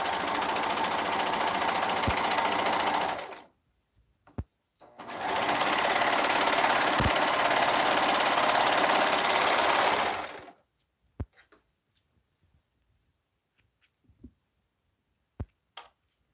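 A serger sews pant leg seams in two long, loud, steady whirring runs separated by a short pause, followed by quiet with scattered small clicks and taps, close by with no talk.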